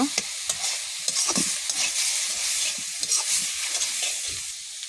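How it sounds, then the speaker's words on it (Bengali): Greens are stirred steadily in a hot frying pan, with continuous sizzling and repeated scraping of the spoon against the pan. "এবার ভালো করে নেড়ে চেড়ে নরম করে নেব"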